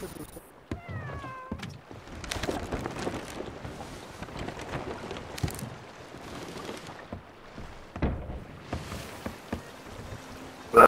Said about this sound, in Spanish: El gato se asusta.